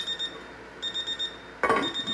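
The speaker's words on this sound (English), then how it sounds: "my timer." A kitchen timer goes off with loud, high electronic beeps in quick repeated bursts, close by, with no talk over it.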